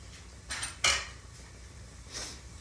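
A metal saucepan clanks down into a kitchen sink with a sharp bright clatter, followed by softer scraping knocks and a final light clink, no voices.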